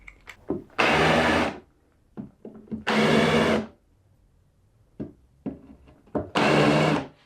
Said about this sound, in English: Now I'm just going to countersink them and screw them in permanently